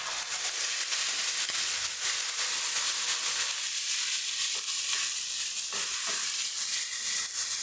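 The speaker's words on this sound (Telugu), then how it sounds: "ఇది కొంచెం బాగా ఫ్రై అవనియాలండి" Chole masala base of ground garlic, ginger, tomato and onion paste frying with spices in a pan, a steady close sizzle and hiss with faint stirring scrapes, no speech.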